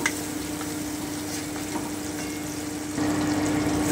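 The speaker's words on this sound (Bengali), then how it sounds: "যতক্ষণ টমেটো থেকে কাঁচা গন্ধটা চলে না যাচ্ছে ততক্ষণ একটু ভেজে নেব" Tomato fries in a pan for a Bengali curry, giving a steady close sizzle with a constant low hum underneath that grows a little louder toward the end.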